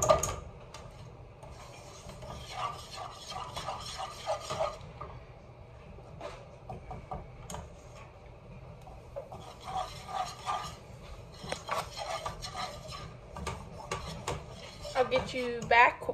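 Butter and flour roux being stirred in a pan for homemade mac and cheese, giving steady utensil scraping and clinking against the metal in rhythmic bursts, close and moderately loud, with quieter pauses between stirring passes.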